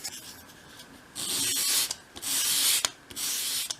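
A small wooden edge is sanded by hand to a sharp bevel for a 1/12 scale shop project, with close, steady rasping strokes in three long passes and no talk.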